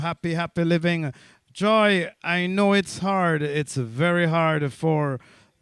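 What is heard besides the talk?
None of the usual background noises is heard.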